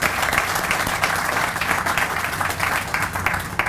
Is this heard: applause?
yes